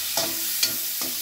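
Onion sizzling in a pan, with a steady frying hiss carrying three short scraping stir strokes about half a second apart; no one speaks.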